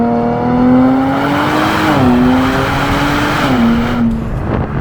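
A Nissan Z accelerates hard at full throttle, its loud engine drone climbing in pitch through the gears, with brief dips at the shifts.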